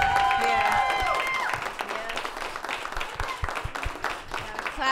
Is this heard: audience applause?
yes